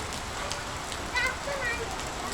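A heavy pre-monsoon rain shower pours down in Konkan as a dense, constant roar of falling water, close and loud, with brief faint tones rising above it.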